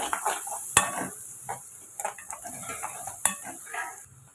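Onion and vegetables sizzle softly in a pan for fried rice while a spoon scrapes and clinks against the metal in irregular stirring strokes, with no talking.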